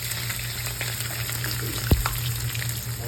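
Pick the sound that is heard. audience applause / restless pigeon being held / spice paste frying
spice paste frying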